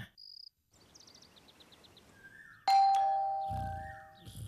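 A doorbell rings in a home at night, its ding-dong tones sounding clearly and close amid a steady background of chirping crickets, with a few short beeping chimes earlier on.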